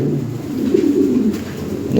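Lahori pigeons coo in a low, steady, rolling murmur, close and continuous over a faint background hum.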